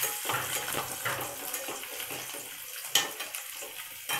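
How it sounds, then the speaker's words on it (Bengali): Boiled pumpkin fries with garlic in hot oil, giving a steady close sizzle with scattered crackles and pops throughout, no voices. "আর আমি ততক্ষণ এখানে কুমড়োটা একটু রসুন দিয়ে ফ্রাই করে নেবো সেদ্ধ কুমড়োটা"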